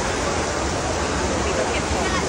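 Heavy rain and rushing water in Suphanburi, a dense, constant roar of broadband hiss and splashing that stays loud and unbroken from start to finish, with no speech.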